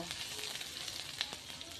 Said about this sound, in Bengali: দিয়ে দিলাম আদাটাও এভাবে একটু ভাজা ভাজা করে নেব।